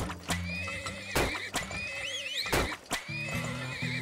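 A horse neighs and whinnies in the video game Turmoil, a loud whinny with hoof clip-clops and short thuds around it, no talking.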